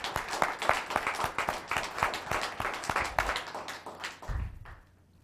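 Audience applause at a Los Gatos town council meeting, with sharp individual claps in a quick irregular rhythm from a modest crowd, swelling and then thinning out before fading to quiet at the end.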